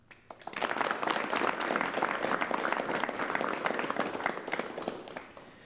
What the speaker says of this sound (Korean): 여러분 많은 박수로 조기준 선생님을 맞이해 주시면 대단히 고맙겠습니다.